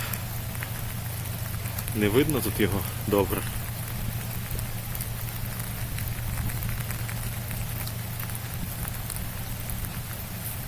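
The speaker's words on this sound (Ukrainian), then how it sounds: "дощ валить." Dense, steady rainfall hisses all around with a constant low hum underneath, while someone speaks briefly near the start.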